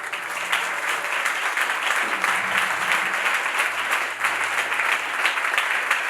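A church congregation at a French-language worship service breaks into loud, sustained applause, dense clapping filling the whole stretch without letup.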